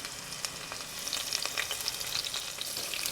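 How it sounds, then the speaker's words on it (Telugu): Cumin and green chilli sizzle in hot oil as a tempering for ragi vegetable soup: a steady, close frying hiss with scattered crackles and pops, with no talking. "కొద్దిగా అల్లం తురుము, వెల్లుల్లి రెమ్మలు అన్నీగా వేసుకోవాలి తాలింపులో"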